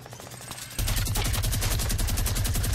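A minigun fires in the video game Fortnite, starting with a faint rattle and then erupting into a loud, rapid, continuous stream of shots that lasts to the end.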